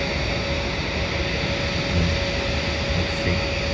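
A Singapore Airlines plane taxis toward the runway, heard as a steady, broad jet-engine roar with a constant whine on top. It sounds even and sustained, at a moderate distance.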